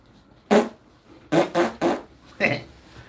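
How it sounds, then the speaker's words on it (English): Four short bursts, one after another, with a rough low fart-like sound fitting flatulence, heard close and loud over a quiet livestream room. "you farted?"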